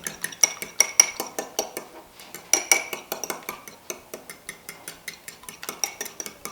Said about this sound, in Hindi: ये हमारा अच्छे से एग बीट हो गया है